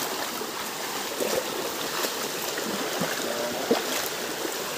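The waterfall and stream at Salapay Falls rush nearby, a strong, steady broadband wash of flowing water with faint splashes and no voices.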